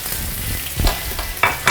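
Radish strips stir-fried in a hot wok with Chinese sausage and diced cured pork, giving a close, steady sizzle with a few sharp spatula tosses and scrapes near the end.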